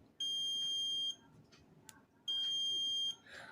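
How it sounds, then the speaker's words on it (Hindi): Multimeter set to continuity mode beeps as its two probes are shorted together: two steady, loud high-pitched tones of about a second each, separated by a short gap with faint background noise. "इसका जो दोनों प्रोब है वो हम शॉर्ट करेंगे तो यहाँ पर बीप मिलेगा"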